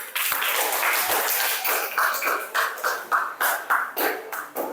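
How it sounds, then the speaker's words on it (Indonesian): Classroom applause from a group of students, a dense patter of clapping that starts steady and then breaks into short rhythmic bursts, fairly close and loud with no talk over it. "Ya, beri aplaus."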